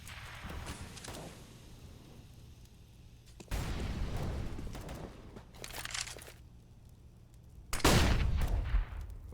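Gunfire sprays through a wall during a Counter-Strike match on the Mirage map, with loud bursts of rapid shots and sharp impacts coming in several close clusters, and no voices over them.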